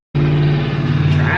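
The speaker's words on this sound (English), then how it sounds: "Traffic." Road traffic starts abruptly: a loud, close motor vehicle passing or accelerating, a steady engine roar with tire noise that lasts just over a second.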